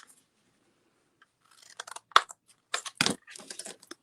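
Scissors cutting a hair shape out of cardboard for a collagraph print, producing scattered crisp snips and crunches after a quiet start, close and fairly loud, with no talking.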